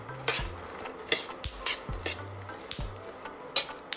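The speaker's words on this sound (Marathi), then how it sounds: "मी पन्नास ग्रॅम खसखस ही टाकून घेतली आहे आणि तीसुद्धा एक ते दोन मिनटं यात भाजून घेणार आहे" Light metallic scraping and stirring of poppy seeds roasting in a pan over low flame, spatula strokes clinking at an uneven pace with a faint dry sizzle underneath, close by.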